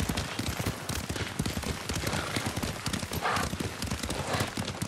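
Horse hooves clip-clop in a steady, close rhythm during a ride in Ghost of Tsushima, with faint background game sounds.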